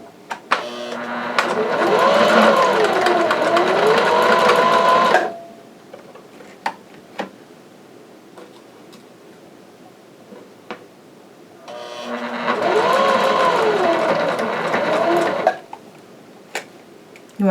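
A sewing machine zigzag stitches a wire into a fitted fabric mask in two separate bursts of a few seconds each, a loud rhythmic whirring with a rising and falling tone, with quiet clicks in the pause between.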